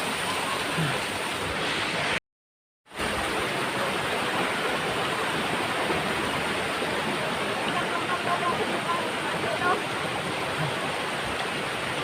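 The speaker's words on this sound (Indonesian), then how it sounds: "menuju air terjun" Steady rushing water roars from a nearby waterfall at Srambang Park in Ngawi, Indonesia, a constant broadband hiss broken by a short silent gap early on.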